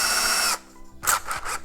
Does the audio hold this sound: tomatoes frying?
no